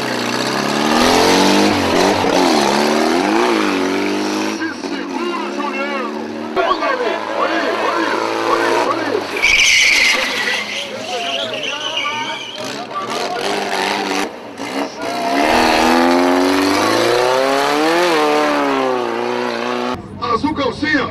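A car spins through repeated 360- and 540-degree turns on a burst tyre at a motorsport show, its engine revving and tyres squealing and skidding continuously while a commentator talks excitedly over it.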